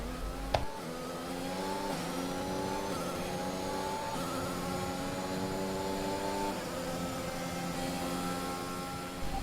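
Several race cars in a racing video game accelerate together after a safety car period, a steady loud blend of rising, layered engine notes that climb and shift gear repeatedly throughout, with no talking.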